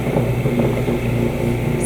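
An electric butter churn running with raw cream, giving a steady low motor hum with a faint mechanical whir, continuous and fairly quiet throughout.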